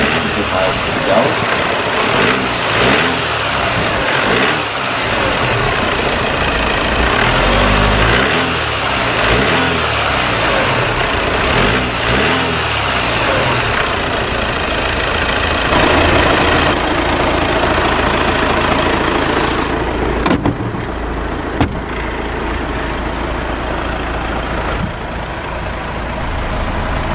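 A 2012 Audi A4 S-Line Black Edition with a 2-litre TDI turbo diesel runs steadily with mid-range engine drone and some revving swells, then drops quieter near the end, heard close and continuous.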